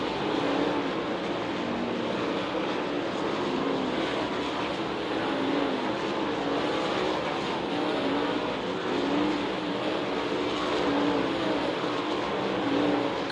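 Dirt track race cars in a hot lap session at Lake Ozark Speedway roar continuously at a distance, a dense steady engine drone with no talk over it.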